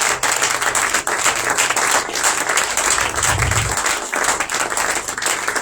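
A church congregation at an opening conference of the Feast of Tabernacles bursts into sustained applause, a dense, loud wash of many hands clapping steadily throughout, with a few voices mixed in.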